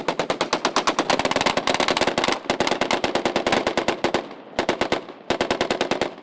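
Rapid automatic gunfire rattles out in long, loud bursts, close by, broken by a few short pauses between volleys, during a staged special forces demonstration on a city square at a parade in Irkutsk.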